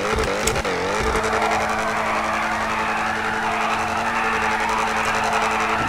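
Exhaust burble and revving from an Ocelot XA-21 supercar in GTA 5 Online, a loud, steady engine drone with a brief tire squeal near the start.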